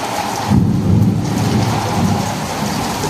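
Heavy rain pours steadily on a rooftop during a thunderstorm while low thunder rumbles roll beneath it, loud and close, with no voices.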